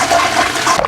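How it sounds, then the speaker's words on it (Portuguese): A household toilet flushing, loud and close, with water rushing and swirling steadily through the bowl without any talking. "a gente acha que dá uma descarga lá em cima dentro de casa e o nosso problema está resolvido"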